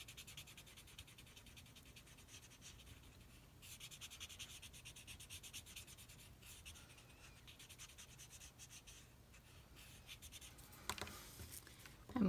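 A regular pencil rubbing across paper to blend an edge in a drawing: soft, continuous scratchy strokes in quick repeated bursts, faint and close, with no talk.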